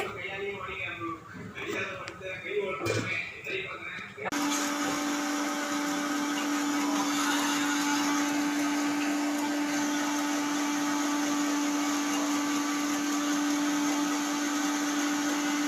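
After a few seconds of talk, a mixer grinder switches on and grinds food with a loud, steady, high-pitched whirring drone that runs to the end.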